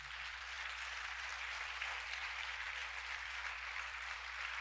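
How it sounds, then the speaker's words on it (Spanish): A church congregation applauding in praise: a steady, dense wash of many hands clapping at a distance, fairly faint and unbroken for several seconds, with a low hum underneath and no distinct voices. "Denle un aplauso al Señor por eso."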